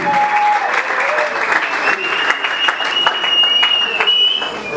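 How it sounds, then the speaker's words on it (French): An audience applauds the couples at a church gathering with steady, loud clapping, while a voice carries over the top of the ovation the whole time. "Est-ce qu'on peut acclamer les couples qui sont là?"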